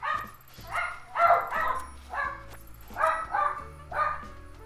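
Several excited dogs bark and yip in quick bursts indoors, a few nearby and clear with pauses between volleys, while a soft background tone runs underneath.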